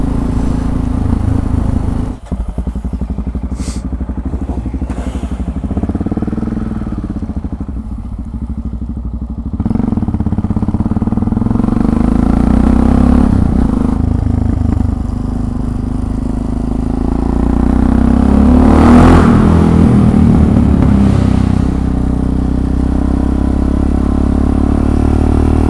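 A motorcycle rides along a road after a ferry crossing, its engine a steady loud drone with wind rumble and shifting revs throughout, with no talk over it.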